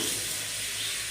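Steady close rush of water as peeled tamarind is soaked and rinsed, a continuous splashing hiss without pause.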